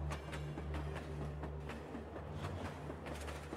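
Running train effect in a detective audio story: a faint, steady low rumble with rhythmic clicks of wheels over rail joints, continuous and without any voice.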